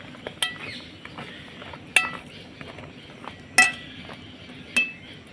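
Rasa puli dumplings are stirred into sugar syrup in a pot, giving a few sharp, isolated metallic clinks of a spoon against the vessel, spaced well apart over quiet background.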